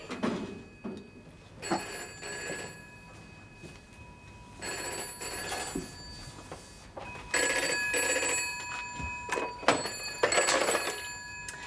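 A telephone bell rings in repeated double bursts, loud and close, with quiet pauses between the rings, in a home where a police station is calling.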